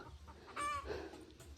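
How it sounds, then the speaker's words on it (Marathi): Chickens at a rural hamlet near Raigad Fort, a single rising cluck-like call standing out briefly over quiet outdoor background. "हे बघा कोंबड्या वगैरे सगळं."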